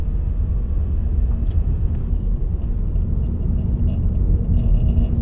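A Toyota Corolla drives along the road, giving a steady, loud low rumble of engine and tyre noise with no speech over it.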